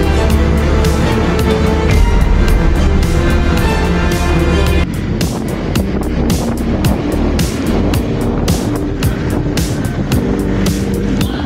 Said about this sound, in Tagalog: Hinahampas talaga ng malakas na hangin at ulan ang barko ito.